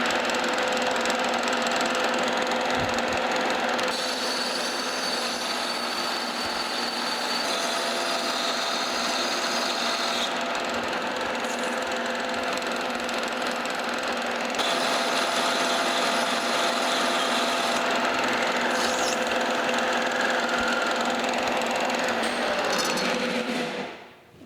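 A metal lathe steadily turning down the stem of a steam boiler try-cock valve, a continuous whirring machine tone with bright cutting noise that shifts a few times before winding down at the end.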